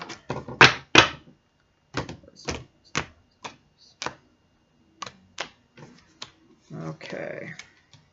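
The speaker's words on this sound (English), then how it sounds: "So with these cards, as I'm shuffling," Tarot cards being shuffled by hand in a quiet room: a run of crisp, separate riffling snaps and taps with pauses between them, ending in a softer, longer rustle, close and fairly faint with no talk over it.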